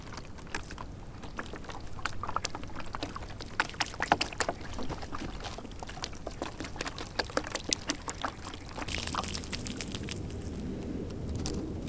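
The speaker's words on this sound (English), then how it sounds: "for this next step, we're adding water." Water poured from a jug onto a dry dirt bike jump, irregular splashing and trickling against the soil with scattered crackles, quiet and fairly close, with a steadier pour near the end.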